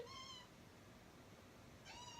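A cat wanting to be let in meows twice, a short plaintive call at the start and another near the end, fairly close but quiet over a low room hum.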